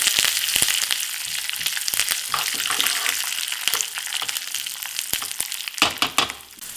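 Dried red chillies, curry leaves and cumin crackling in hot oil in a pan, a loud, dense sizzle with bursts of popping that runs on without a break, close by and with no one talking.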